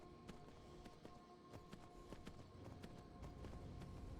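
A horse gallops in Skyrim, its hooves beating a quick, fairly even rhythm of close, crisp thuds over a low background rumble that grows slightly louder toward the end.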